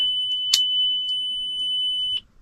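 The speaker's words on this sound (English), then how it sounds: "when you open the door, if the car's running, you will get the dinging quite a lot" Warning chime on a 2014 Lamborghini Gallardo LP550-2 sounding as a continuous high electronic tone with the door open and the car running, dotted with a few clicks before cutting off near the end.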